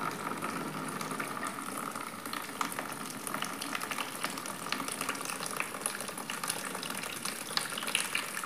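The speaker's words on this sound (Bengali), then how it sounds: "খুব ভালো পানি উঠতেছে, দেখেন, দেখতেই পাচ্ছেন।" A homemade water pump draws water that gushes and splashes steadily for the whole stretch, a continuous broadband rushing with no pauses and no voices.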